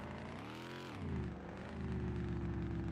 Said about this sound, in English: let me know if the engine noise is too loud